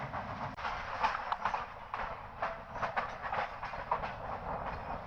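Steady rumble and rhythmic clacking of the moving Dhumketu train between Dhaka and Tangail, heard from inside a carriage, continuous and moderately loud with no talking.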